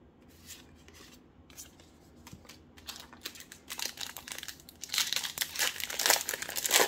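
Crinkling foil wrapper of an Unfinity draft booster pack being torn open and handled close up, soft rustling at first that grows into loud, dense crackling near the end.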